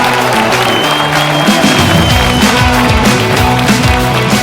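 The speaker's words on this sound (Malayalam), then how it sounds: "4 ഭാഗത്തു നിന്നും ഉയരുന്ന ആ കയ്യടികളും ആരവങ്ങളും ക്യാമ്പസിനെ ആകെ" Students on a campus clap and cheer, a loud continuous wash of applause with crowd noise and scattered shouts, fairly close and filling the whole short stretch.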